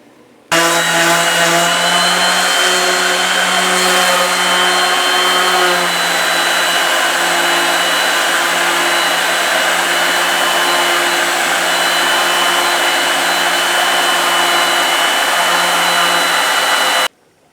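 A powered grinder runs steadily on the steel blade of a full-size sword build, giving a loud, continuous whine with a droning tone that starts abruptly, holds for about sixteen seconds and cuts off.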